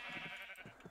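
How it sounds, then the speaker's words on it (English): Minecraft sheep give a short wavering bleat, clear and close, with nothing else over it. "And then I have all my sheep out here."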